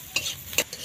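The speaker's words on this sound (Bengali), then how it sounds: "দেখো বন্ধুরা লাল করে পেঁয়াজ রসুনটা ভাজা করছি।" Onion and garlic frying in a pan while being stirred, with two short scraping stirs over a faint background sizzle, close and alone.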